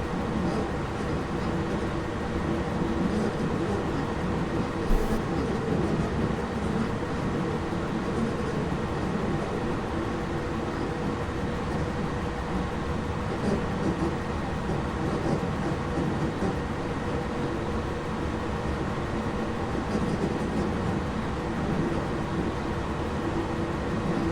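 A CC 40100 electric locomotive rolls steadily along the rails near a junction on the Dunkirk to Lille line, a continuous loud rumble with wheel and track noise throughout, no talking.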